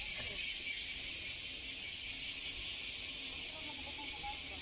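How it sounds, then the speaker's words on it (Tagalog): Crickets drone outdoors during a rest stop on a ride, a steady high-pitched insect chorus that hangs evenly in the air at moderate, fairly distant volume, with no one speaking over it. "Siguro kuliglig siguro to ngayon, oh."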